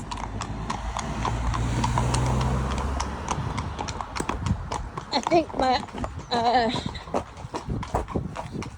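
Horses hacking along a main road, their hooves clip-clopping in a steady walking rhythm on the hard surface, with a rider talking over the sound and passing traffic rumbling at first.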